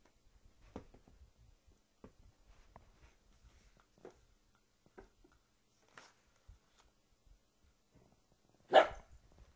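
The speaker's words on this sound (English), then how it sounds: "That was my dog." A dog barks several times at irregular intervals, mostly faint and distant, ending in one loud, close bark.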